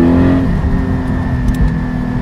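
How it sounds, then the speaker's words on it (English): Porsche 718 Spyder with a Cargraphic sport exhaust and its valve open, running at a loud steady idle. A deep rumbling burble holds throughout, close by and without talk. "we can put the sport exhaust on here"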